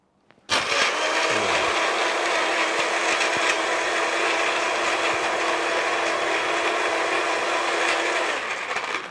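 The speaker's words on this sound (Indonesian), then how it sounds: "Langsung kita blender ya." A blender whirs steadily at high speed, blending ice cream with chocolate chips; a loud, continuous motor roar starts abruptly and holds for several seconds with no talk.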